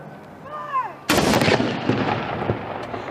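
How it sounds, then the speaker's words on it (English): A single gun salute round marking the death of Prince Philip in London booms once, loud and sharp, then rumbles away, after a brief tonal call. "Gun salutes marking the death of Prince Philip have taken place in London today."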